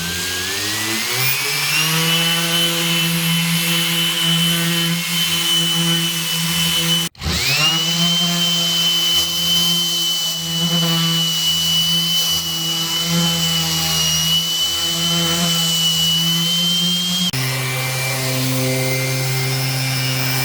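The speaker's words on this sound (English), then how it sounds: "sanding this piece of wood." An orbital sander whines loudly and continuously on wood, its pitch rising as it spins up and shifting between speeds, with one brief cut-out.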